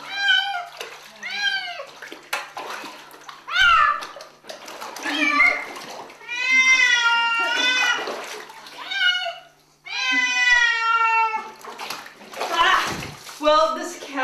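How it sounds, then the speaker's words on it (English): A cat being bathed meows repeatedly in drawn-out, wavering cries, close and loud, with water sloshing in a tub between calls and a person talking over it. "this cat is actually going to escape without shampoo"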